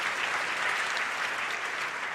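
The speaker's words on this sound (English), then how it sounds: "they should get a round of applause as well" A crowd at a food politics event applauds the steering committee, a dense, steady wash of many hands clapping close and even throughout with no pauses.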